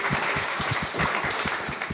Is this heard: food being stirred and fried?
no